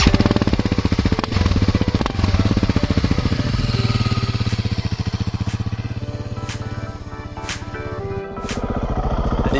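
A BMW G 650 X Challenge motorcycle is ridden at close range, its single-cylinder engine thumping loudly and continuously, the pitch rising and falling through gear changes, with brief bursts of wind noise.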